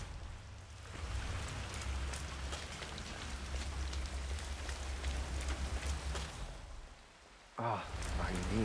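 Steady rain in Hitman 3 patters across a surface for several seconds, a soft continuous hiss, briefly dropping away before a voice cuts in near the end.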